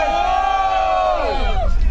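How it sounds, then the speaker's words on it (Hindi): A group of children on a bus lets out one long, loud collective hoot and cheer at the end of a day trip, voices sustained together for over a second before trailing off amid engine rumble. "can I have the final hooting for the final trip"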